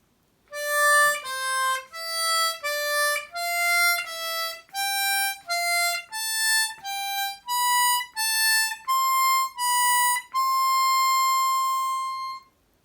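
A harmonica plays single notes one after another, climbing in a stepwise scale with short breaks, ending on a long held tone.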